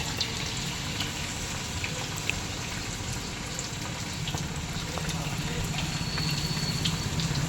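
Chicken fries in oil in a pan, a steady dense sizzle and crackle that holds at an even level throughout without pause.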